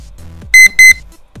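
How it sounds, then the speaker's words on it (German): A kitchen-style timer alarm goes off with two quick pairs of loud, sharp electronic beeps. Each beep is close and piercing, and brief pauses separate the pairs. "Das war so eben der Timer"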